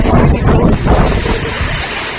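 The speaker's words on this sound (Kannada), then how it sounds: "ಈ ಮಳೆ ನೋಡಿ" Steady rain pouring down in the year's first shower after a very hot spell, a loud, dense wash of water noise close to the microphone with gusty roughness and no talk.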